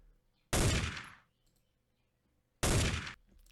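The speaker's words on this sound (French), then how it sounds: "j'ai utilisé une pistolet là" Two separate gunshot sound effects in a music mix, each a sharp loud blast with a decaying tail, spaced about two seconds apart with near silence between.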